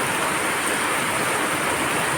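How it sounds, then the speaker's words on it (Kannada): Heavy rainwater rushing along a road in Mangaluru during a downpour: a loud, dense, continuous hiss of pouring water with no breaks, steady throughout and without voices. "ಮಾರ್ಗದಲ್ಲೆಲ್ಲ ಹರಿಯುತ್ತಿರುವ ಮಳೆ ನೀರು"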